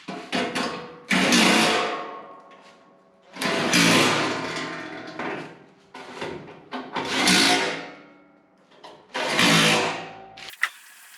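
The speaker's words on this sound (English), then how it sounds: "I'm going to go ahead and put the skid plate on now" Clanking and scraping bursts as a skid plate is fitted back onto a Toyota Tacoma with a 3.5-liter V6, four separate loud metallic rattling spells with short pauses between them, close by.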